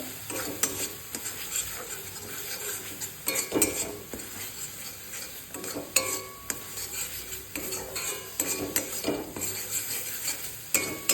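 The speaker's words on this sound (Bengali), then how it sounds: "আমি ধনে গুঁড়ো, কাশ্মীরি লঙ্কা গুঁড়ো আর হলুদ গুঁড়ো দিয়ে ভালোভাবে একবার কষিয়ে নেব" Ground turmeric, Kashmiri chili and coriander are stirred and fried in a pan for a fish curry, with a constant sizzle and repeated metal utensil scrapes and clinks against the pan, close up.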